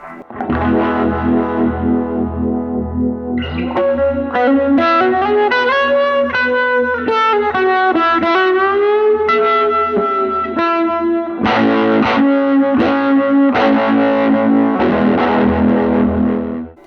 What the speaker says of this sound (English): That's the Univibe sound.